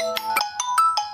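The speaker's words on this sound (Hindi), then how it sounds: "यहाँ पर रिंग के साथ साथ यहाँ पर अनाउंसमेंट करके बताया जा रहा है कि दीपक नरहट नाम से फोन आ रहा है" A phone ringtone for an incoming call plays a quick bright melody of short electronic tones in a steady rhythm, clear and close, with no speech over it.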